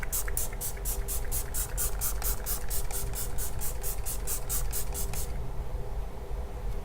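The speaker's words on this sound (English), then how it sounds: "Let's see what the mister looks like." A Wet n Wild setting spray mister fires a quick rhythmic series of short, sharp pumped hisses, close and loud, about twenty in a row before stopping, over a constant background hum.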